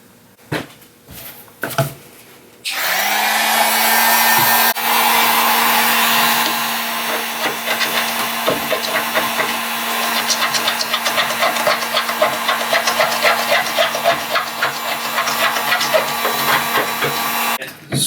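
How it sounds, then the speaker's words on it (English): A heat gun roars steadily while a scraper strips finish from a sailboat tiller. The gun starts after a few handling knocks and holds a loud, even hiss, with small scraping ticks and clicks over it until it cuts off. "The best way I found to do that is to use a heat gun and a scraper."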